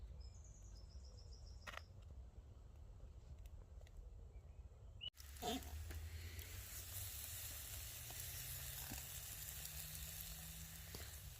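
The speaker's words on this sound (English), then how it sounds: "This is cooking very nice indeed." Food cooking on a camping stove inside a tent, a soft hiss that begins after a quiet start with faint clicks, then becomes a steady, close sizzle with a low burner roar underneath.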